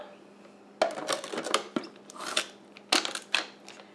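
Lid pressed onto a mixing container while making a pumpkin pie cheesecake parfait: a run of sharp plastic clicks, knocks and rattles in uneven bursts, close and fairly quiet.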